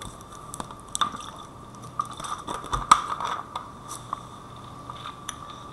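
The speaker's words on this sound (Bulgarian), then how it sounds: "Ще пия малко вода." Minecraft character drinking water, a run of short wet gulping and sipping blips in an uneven rhythm over near silence.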